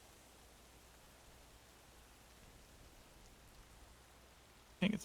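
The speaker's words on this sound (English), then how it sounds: "kind of hard to hear over the rain" Rain in a video game falls as a steady, soft hiss of noise throughout, faint and even, with a brief louder knock near the end.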